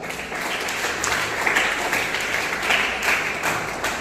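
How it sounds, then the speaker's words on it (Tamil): Church congregation applauding together, a steady wash of many hands clapping at close range that holds evenly throughout without a break. "கையத்தை தட்டலையா"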